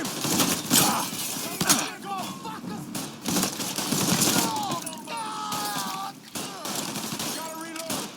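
Gunfire during a shootout in the video game Mafia III, a dense crackle of rapid shots and impacts running continuously while people shout over it.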